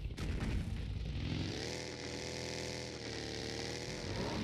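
A game motorcycle engine in PUBG Mobile drones steadily and loudly throughout, with a sharp burst at the start, its low rumble holding constant as the bike rides on.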